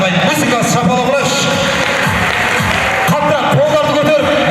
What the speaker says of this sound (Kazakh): Музыкасы шапалақ ұрайық.